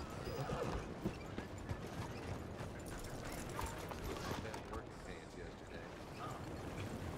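Horse neighing and hooves clip-clopping in the Red Dead Redemption 2 video game, set in a busy town near stables, steady hoof beats under continuous ambient bustle with a whinny rising over the mix.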